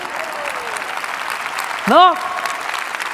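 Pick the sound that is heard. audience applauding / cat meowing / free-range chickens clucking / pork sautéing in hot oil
audience applauding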